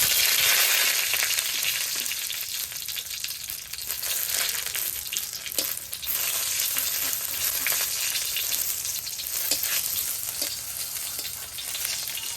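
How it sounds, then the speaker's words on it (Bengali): Dried chillies fry in hot mustard oil in a kadai, a loud, bright continuous sizzle with crackling pops and occasional scraping stirs, heard close up without talk. "এখন সরষের তেল দিয়ে শুকনো মরিচ ভেজে নেব"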